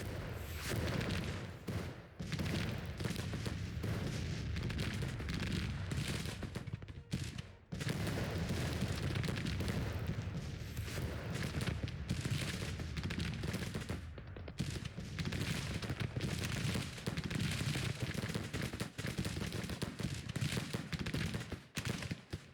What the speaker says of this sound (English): I've got my cannons ready to go. Firing away.